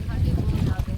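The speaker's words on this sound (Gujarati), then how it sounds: "ફૂલ પવન થાય છે" Strong wind at a dam, blowing as a loud, continuous buffeting roar across the microphone, with a voice talking over it.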